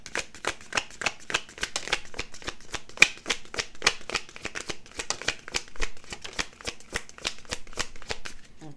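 Tarot cards shuffled close up in a steady run of quick riffling bursts, crisp papery flutters repeating about every quarter second, alone without talk.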